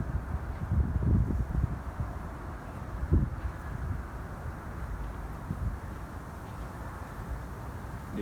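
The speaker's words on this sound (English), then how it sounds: "Sound of the wind blowing the grass is very good." Wind blowing through grass in a park, a steady low rushing with a few stronger gusts near the start, soft and continuous with no voices.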